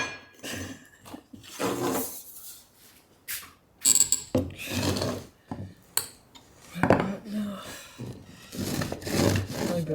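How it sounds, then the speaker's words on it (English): Copper pipe being sawn by hand on a bench: irregular scraping strokes with metallic rubbing and clinks, close and in uneven bursts. "let's cut another piece of pipe"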